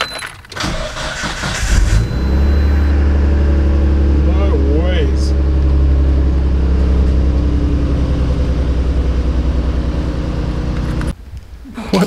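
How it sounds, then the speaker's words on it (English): A Nissan R32 GT-R engine cranks and catches, then settles into a steady, loud low idle that runs for several seconds before cutting off near the end, with a voice speaking briefly over it early on. "The hell, the car started."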